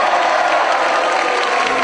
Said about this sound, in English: Let's have a cheer for East House!